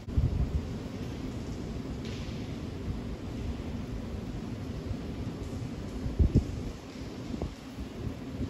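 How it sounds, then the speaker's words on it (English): Distant thunder rolls as a low rumble beneath steady rain-like noise during a thunderstorm, with a louder, sharper burst from a nearby lightning strike near the end. "That's thunder."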